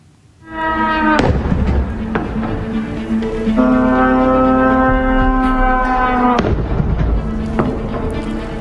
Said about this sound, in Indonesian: Ledakan mengguncang akibat serangan drone Iran menyasar pangkalan militer Amerika Harir di Erbil, Irak.